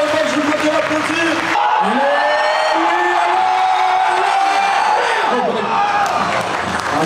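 Crowd at a French powerlifting competition reacting to a national record lift, a dense roar of cheering and whoops sustained loud and close throughout, with voices shouting over it.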